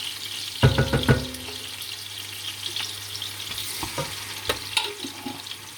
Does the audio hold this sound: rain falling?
no